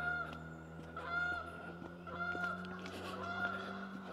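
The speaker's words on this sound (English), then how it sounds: "Oh, the geese are here." Geese honk repeatedly over a steady low drone outdoors along a forest walk, the calls overlapping in a busy, moderately close flock with no talking.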